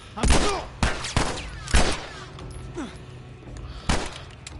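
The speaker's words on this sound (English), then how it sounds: "Oh, I'm getting shot at." Gunshots ring out in The Last of Us video game: several sharp, loud cracks spaced irregularly across a few seconds with echoing tails, over low background ambience.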